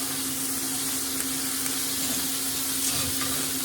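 A steak cooks on a grill alongside a mix of onions and shallots, giving off a steady, even sizzle and hiss. The frying holds level and continuous throughout, with no talk over it.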